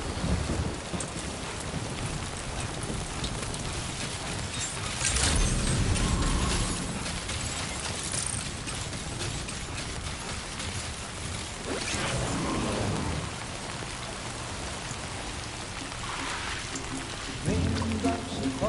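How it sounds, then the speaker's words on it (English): Steady heavy rain pours down in the video game Death Stranding 2, a dense continuous hiss with swells of louder downpour and low rumbling, filling the whole stretch without any voices. "Raindrops are falling on my head"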